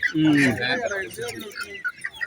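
Chickens, among them a black Kadaknath hen, cluck and squawk at a busy poultry market in Kerala, a short loud call at the start followed by fainter clucks.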